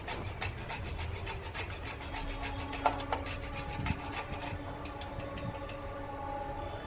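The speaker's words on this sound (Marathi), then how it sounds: "थोडंसं जायफळ आपल्याला किसून घ्यायचं आहे थोडंसं किस छोट्याशा किसणीने किसून घ्यायचं" A small kitchen grater scrapes across a whole nutmeg in a steady run of quick, rhythmic rasping strokes, close and fairly loud, with no talking, easing off toward the end.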